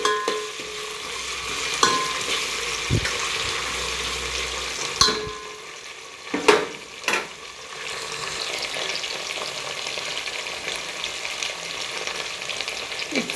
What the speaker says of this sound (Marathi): कांदा चांगला लाल असा परतून घ्यायचा आहे. आलं लसूण पेस्ट सुद्धा आपण घालणार आहोत.